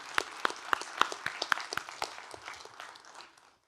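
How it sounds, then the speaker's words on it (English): A small audience at a talk on communicating with data claps in distinct, rhythmic hand claps that thin out and fade over a few seconds. "I want to give them a round of applause"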